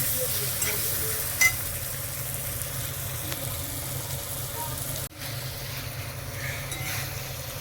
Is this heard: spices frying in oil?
yes